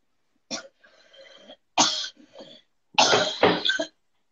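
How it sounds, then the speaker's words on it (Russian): A person coughs hard three times in quick succession during an online session, close and loud, the last cough longest and harshest, with silence in between. "Прям кашляй и дави."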